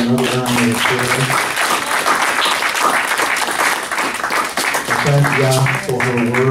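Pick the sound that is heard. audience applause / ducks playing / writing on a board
audience applause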